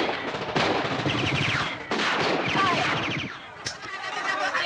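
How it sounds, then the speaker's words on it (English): Automatic rifle gunfire in a beach shootout from a Jamaican crime film, bursts of rapid shots layered with dense action soundtrack noise and shouting, steady and loud with a brief lull near the end. "Armed with automatic rifles, they corner Ivan on the beach, where they have a major shootout."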